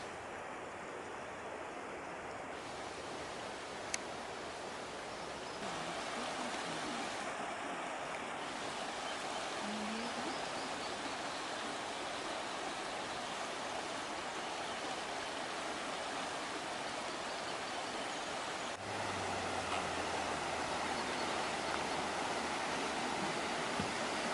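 Continuous rushing water from a waterfall pours steadily at moderate distance with no voices, the roar thickening partway through.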